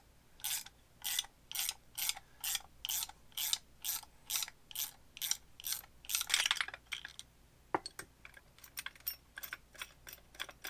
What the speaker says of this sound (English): Take your 1/2 inch ratcheting wrench, see if this goes.